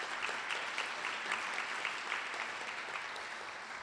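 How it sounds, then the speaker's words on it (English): An audience at a sustainability breakfast event in Balboa Park applauds steadily throughout, a dense wash of clapping with no pauses. "I think you guys deserve an applause for that"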